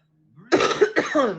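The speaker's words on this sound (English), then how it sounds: "it's the coughing for me" Two harsh coughs in quick succession, close and fairly loud, after a brief quiet moment.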